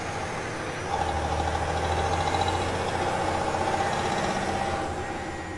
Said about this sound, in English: I heard the unmistakable sound of an engine revving up behind me